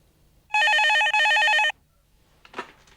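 A landline telephone rings in one long electronic trill with a brief break, loud and close, then stops; faint movement sounds follow in a quiet room.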